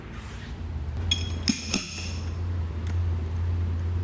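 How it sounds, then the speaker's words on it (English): A bung puller works a barrel bung free at a whiskey vault tasting, giving a few sharp metallic clinks and one glassy ping over a low steady hum, with no talking. "The bung puller."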